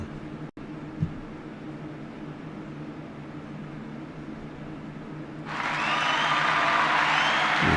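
A recorded applause sound effect comes in partway through, a steady wash of clapping that starts suddenly and carries on loudly to the end over low background hum.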